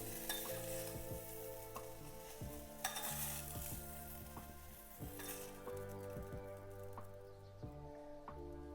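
Potatoes sizzle steadily in hot oil in a pressure cooker, with a spoon scraping and knocking against the metal every second or so as they are stirred.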